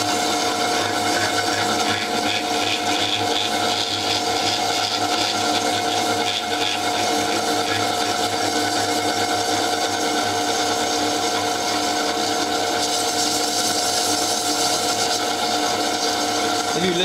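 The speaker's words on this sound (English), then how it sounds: "I use a free stone hone, it's Carborundum stones." Carborundum stone hone grinding inside the cylinder of a 1957 Lister D engine, a loud, steady, continuous abrasive whir with a faint rhythmic scraping undertone, held without a break.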